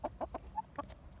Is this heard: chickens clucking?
yes